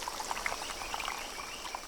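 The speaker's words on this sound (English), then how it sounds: "Croaking to win the female's favor." Tiny male Bornean rock frogs, about 2 cm long, call in late afternoon with faint, scattered high chirping croaks over a constant rushing stream background.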